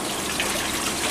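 Water trickling in a small indoor fountain at a café, a soft, steady burble heard briefly and close by, with no voices.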